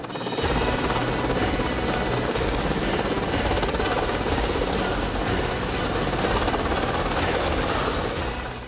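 A naval helicopter lands on the deck of the frigate Hydra sailing in the Ionian Sea, a loud, continuous rotor and engine roar steady throughout, with a voice faintly underneath.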